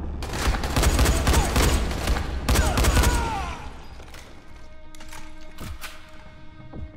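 Gunfire in the zombie survival game Dying Light, aimed at the player: rapid, loud automatic bursts for the first few seconds, then sparser single shots and clatter as the firing dies down.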